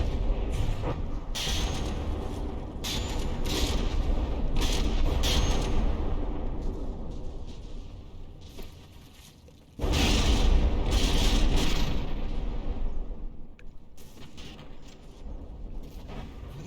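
Naval guns in the From The Depths battleship game pound enemy turrets, a dense, continuous rumble of heavy booms and crackling impacts with a sharp loud surge partway through.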